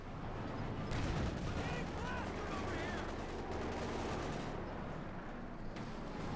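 Dense, continuous machine gun fire in a Company of Heroes 2 battle pins down infantry, with a steady roar of battlefield gunfire and distant blasts throughout.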